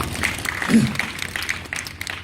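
An audience claps after a university team's presentation, moderate applause that is brief and partly masked by a voice speaking over it.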